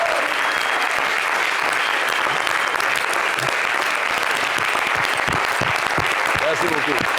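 Sustained, dense audience applause in a television talk-show studio, loud and continuous, with scattered whoops and voices mixed into the clapping.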